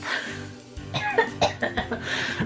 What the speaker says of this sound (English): You got a little bit of a cough?